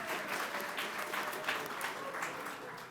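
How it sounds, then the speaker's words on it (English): Audience applause at a Pan Asian voter empowerment mayoral candidate forum, a steady, moderately close crowd clapping with dense overlapping hand claps at an even level, sustained throughout without talk. "Can we clap it up for her again?"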